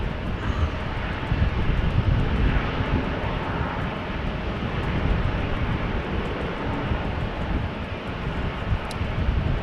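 An Aegean Airlines plane departs Amsterdam Schiphol in wet, windy weather, its engine roar a sustained rumble mixed with gusty wind buffeting the microphone, steady and moderately loud throughout.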